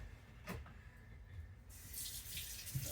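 A tap runs in a kitchen while a utensil used for cake batter is washed under it, a soft steady splash of water with a few faint knocks against the sink.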